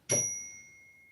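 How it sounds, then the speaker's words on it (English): A new zen bell is struck once, giving a clear bright ring followed by a long, slowly fading sustained tone, with no talking. "I bought a new Zen bell, and it's not really zenning."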